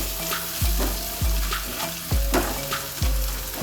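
A spoon scrapes and stirs Kashmiri chili powder and coriander powder in an oily frying pan, giving a rhythmic series of knocks about every 0.9 seconds over a steady soft sizzle, with no talking.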